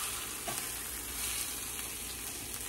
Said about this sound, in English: just frying it in my little pan